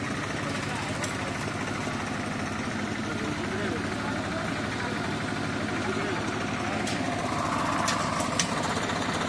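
A Swaraj 746 tractor engine runs steadily at a rural worksite where wood is being cut and loaded onto a trolley, a continuous droning rumble with a few faint knocks on top.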